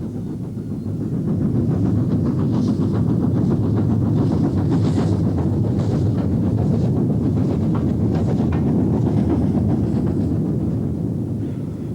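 Flying Scotsman, the LNER A3 class steam locomotive, hauling its train across the Esk Viaduct in Cumbria: a steady, loud rumbling roar with faint rhythmic pulsing, continuous throughout and without any talk.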